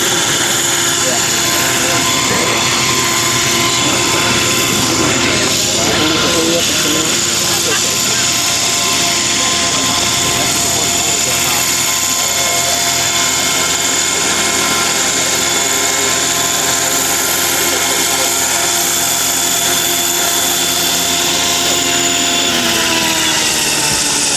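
A scale model Sikorsky CH-54A Tarhe helicopter in flight, its loud continuous rotor and turbine drone droning steadily at close range throughout, with people talking over it.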